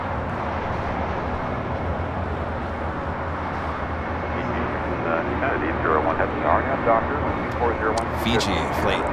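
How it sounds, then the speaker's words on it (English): A Fiji Airways Airbus A350-900 touches down at LAX with a continuous dense jet roar. The roar grows slightly rougher near the end, with faint clatter mixed in. "Fiji, flight 810, coming from Nandi, A350-900, touching down here on the south side"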